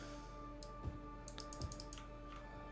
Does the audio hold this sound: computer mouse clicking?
yes